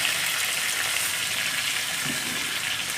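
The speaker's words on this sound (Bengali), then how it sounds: "আলুর দমের জন্য একটু ভালো করে লাল লাল করে ভাজতে হবে" Potatoes fry steadily in hot oil for aloo dum in a home kitchen, a continuous close sizzle and crackle with no talking.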